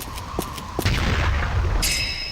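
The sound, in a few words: grenade explosion in a video game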